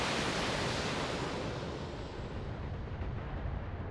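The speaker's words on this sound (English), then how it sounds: "we also got very lucky there with an SRM ammo explosion, which blew off the left torso" A BattleTech mech's SRM ammunition cooks off in a heavy explosion, a dense sustained roar of rumbling blast noise that fills the space and slowly eases in intensity, with no voices.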